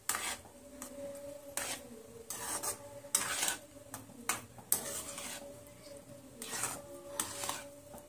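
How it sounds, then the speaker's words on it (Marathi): Sheera, a semolina sweet with dry fruits, being stirred in a pan, giving a soft repeated scraping and rubbing of the spoon against the metal with faint clinks, close and quiet, with no talk. "ह्याला आता अशा चांगल्या प्रकारे मिक्स करून घ्यायचे आपल्याला"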